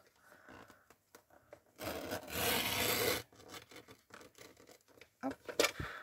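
A paper trimmer blade slides through paper for a Christmas perpetual calendar craft, giving one rasping scrape of a little over a second between quiet handling clicks and soft shuffles.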